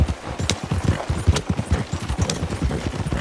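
Galloping horse hooves in Red Dead Redemption 2 during a winter endurance race: a steady, rapid clip-clop rhythm of repeated low thuds, close and moderately loud, with a faint whinny-like tone in the background.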